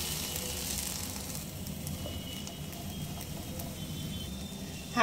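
Yardlong beans with salt and a little water sizzle softly in a wok on a gas stove, a faint, steady frying hiss that ends with a brief clatter.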